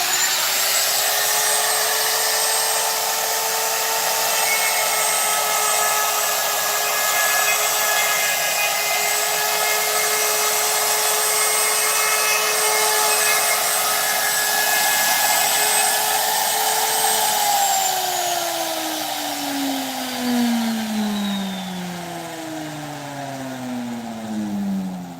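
A wood router cutting a guitar control cavity, a loud steady high-pitched whine with a bright harmonic tone held for most of the run, then spinning down with falling pitch as the motor stops, alone without talking.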